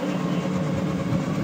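A train at Cox's Bazar railway station, a steady rumbling rail-car roll with faint clickety-clack continuing throughout, fairly close and without pause.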